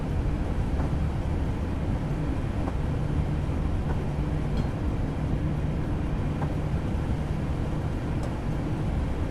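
A steady, loud rumble of a Class 483 electric train gathering speed downhill with the power off in Train Simulator 2016, a continuous running drone with faint clicks and no voices.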